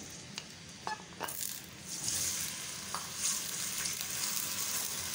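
Sliced onions sizzle steadily in hot oil in a home kitchen, with a soft, continuous frying hiss. It is preceded by a few light clinks and knocks as they are stirred in, and no one speaks.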